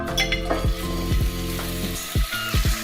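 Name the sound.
meatballs frying in oil in a pan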